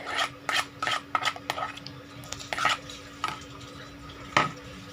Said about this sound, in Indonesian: Kita aduk-aduk dulu.